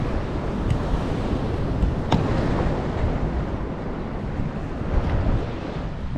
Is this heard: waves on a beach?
yes